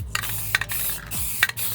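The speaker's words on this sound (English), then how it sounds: "I'm gonna take some flat black spray paint" A nearly empty can of flat black spray paint is sprayed as a guide coat on a boat's gelcoat transom during sanding, with several short hissing bursts close to the microphone.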